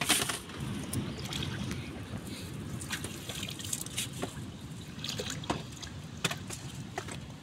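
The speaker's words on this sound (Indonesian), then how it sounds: "Siram lagi pakai gayung." Water splashes and trickles as it is poured over a bather from a dipper at a swimming pool, soft, close, irregular pours and drips that continue steadily.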